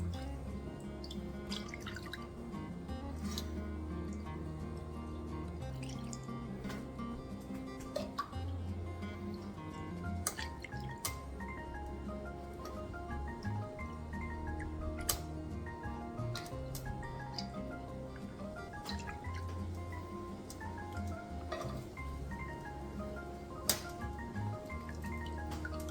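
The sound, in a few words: melted beef tallow dripping through dishcloth sieve into Pyrex jug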